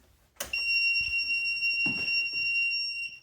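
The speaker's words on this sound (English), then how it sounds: "this really annoying beep when you turn it on" A DeerRun walking-pad treadmill gives a shrill electronic power-on beep that sustains as a steady high tone for nearly three seconds, with faint clunks and rustles underneath.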